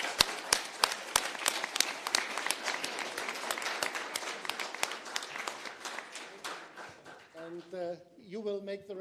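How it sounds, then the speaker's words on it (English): Conference audience clapping for a panel: loud, sharp individual claps at first, thinning into scattered applause, before a voice starts talking near the end. "Please give our panelists a very big and long applause."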